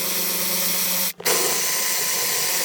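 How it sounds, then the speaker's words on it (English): A battery-powered impact wrench loosening front seat bolts on a Mercedes W126 300SD, a steady loud whir that cuts out briefly and then resumes, close up and with no talk. "get our handy dandy battery wrench in there"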